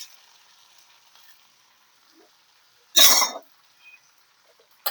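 Tomatoes and curry leaves hit a hot pan of cooked potatoes with a sudden loud burst of sizzling that fades quickly, after a faint background hiss.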